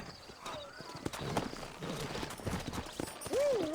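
Horses in the Red Dead Redemption game, hooves clip-clopping in an irregular rhythm under game ambience and some voices, with a short whinny near the end.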